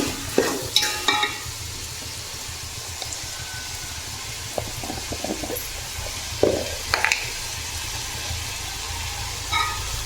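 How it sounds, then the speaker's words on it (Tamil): Steady frying sizzle of tomatoes sautéing, with occasional scraping stirs in a pan, close by and continuous, no voices. "இப்போ தக்காளி வதங்கிறதுக்கு போடுவோம்"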